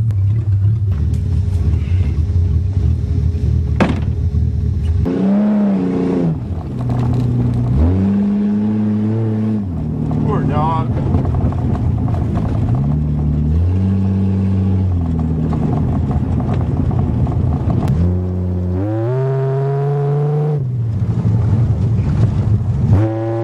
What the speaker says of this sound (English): Wow, this car drives just like brand new.